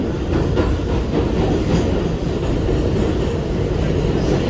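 Onboard a Kawasaki R211A New York City subway A train bound for Inwood-207th Street, a loud continuous rumble and rattle of wheels on track fills the car without a break.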